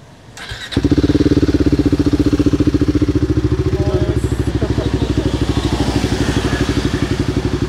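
A Royal Enfield Guerrilla 450 fitted with a slip-on exhaust starts up and settles into a loud, close, even thumping idle that carries on steadily for several seconds.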